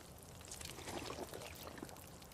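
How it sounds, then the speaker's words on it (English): Drinking water in the survival video game Runescape Dragonwilds comes through as a soft, continuous gulping, pouring wash, fairly quiet and steady over a brief stretch with no talking. "let's go ahead and drink some water"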